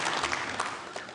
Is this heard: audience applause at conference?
yes